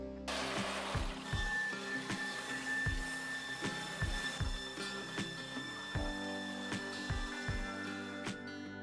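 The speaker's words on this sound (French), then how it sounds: "on va les mettre sur le pré-broyeur, qui n'est autre qu'une presse purée un peu industrielle." Industrial pre-grinder, a large purée-press type machine, crushing hazelnuts for chocolate making, with rhythmic repeated mechanical clunks and ratcheting clicks over a constant motor hum, close and moderately loud.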